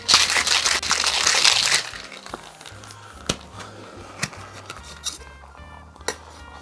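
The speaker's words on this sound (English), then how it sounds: "So we're gonna add some ice to this. All right, put this together. Shake the shit out of it." A Keto Hurricane cocktail made with fresh lemon juice is shaken hard with ice in a shaker, giving a loud, dense rattle for about two seconds, then scattered clinks and knocks as the shaker is set down and opened.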